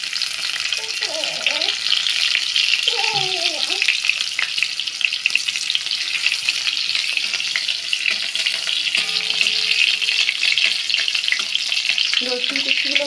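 Chopped garlic fries in hot mustard oil with a loud, continuous crackling sizzle close by, while a voice speaks briefly in short bursts over it.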